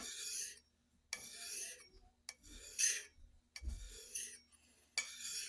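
Hand file taking a burr off metal with downward strokes while finishing a handmade white oak handle, giving a series of close, rasping scrapes, about six separate strokes with short pauses between them.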